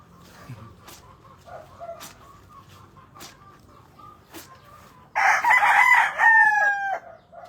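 A rooster lets out a loud, drawn-out crow nearby after a few seconds of quiet clucking and scattered clicks, the call rising sharply and trailing off over about two seconds.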